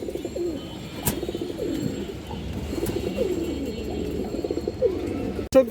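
Pigeons at a pigeon sale coo steadily and close by, with layered low rolling calls throughout, a few sharp clicks, and a loud knock near the end.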